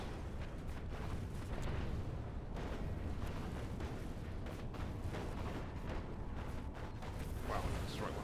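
A continuous battle din of artillery fire and explosions pounds away as tanks are destroyed in Planetary Annihilation, a dense, unbroken rumble of booms and mechanical clatter.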